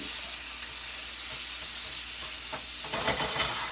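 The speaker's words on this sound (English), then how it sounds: "So just kind of roasting that garlic with that asparagus, giving that deep, earthy, nutty flavor." Garlic roasting with asparagus in a hot pan makes a steady hiss close to the listener, with a few louder bursts of sizzle and scraping near the end.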